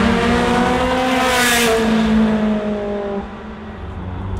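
A Ferrari 360 Challenge Stradale V8 road car revs loud and close, its engine holding a steady high howl before dropping off as it eases away, with no talk over it.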